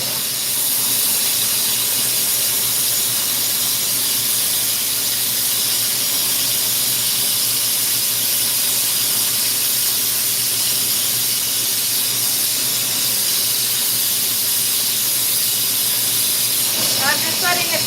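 A glassblowing torch flame running low on oxygen hisses steadily and close, a continuous rushing roar that fills the whole stretch, with a voice speaking over it at times.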